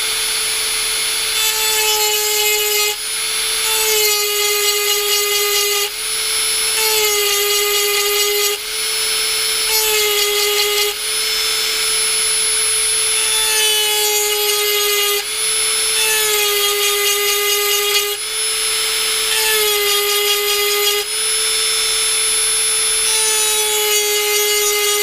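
A hand tool grinds notches into the hardened steel spine of a Buck 110 knife blade, a loud, shrill, tonal scraping in repeated strokes of a few seconds each with short breaks between them.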